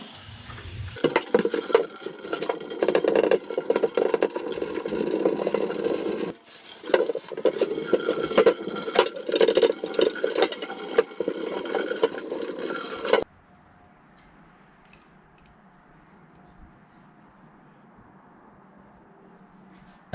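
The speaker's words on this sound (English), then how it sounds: "So I'm gonna go over it again with steel and degreaser and hot water." An LS1 V8's valley cover, from a VN Commodore, is scrubbed hard with steel wool, degreaser and hot water: close, gritty rasping strokes for about thirteen seconds with one brief pause, then a sudden drop to quiet room noise.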